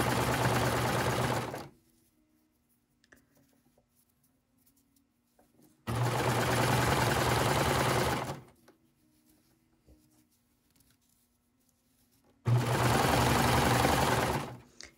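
A sewing machine stitches a shortened sleeve on a thrifted garment in three steady bursts of a couple of seconds each, separated by quiet pauses, close and alone.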